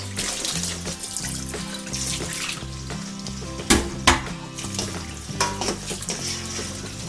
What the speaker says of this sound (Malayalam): നല്ല തണുത്ത പൈപ്പിലെ വെള്ളമെടുത്ത് കുറേ പ്രാവശ്യം ഒന്ന് കഴുകിയെടുക്കുക